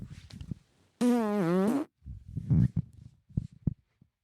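A long, loud, pitched fart-like rasp with a rising and falling tone, heard from a tiger, lasting under a second and followed by scattered short rustles and thumps.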